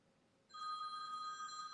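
A mobile phone ringing indoors, starting abruptly halfway through with a steady electronic ringtone, moderately loud and alone.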